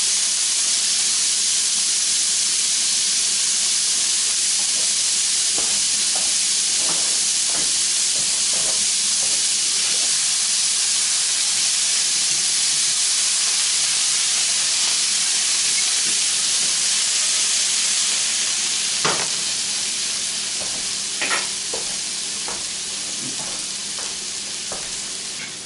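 Finely chopped shallot sizzles in melted fat in a pan, a steady, close frying hiss with occasional soft pops and ticks, easing slightly toward the end.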